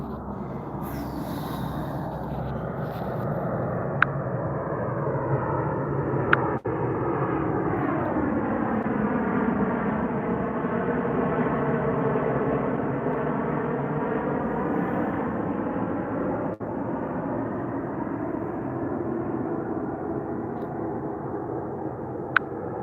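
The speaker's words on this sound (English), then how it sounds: "That will be flying over all day long. There's the motherfucking planes." Airplanes pass overhead above an outdoor swimming pool, a loud continuous engine roar that rises and sweeps in pitch as the aircraft passes, lasting over twenty seconds with a few faint clicks and no talk.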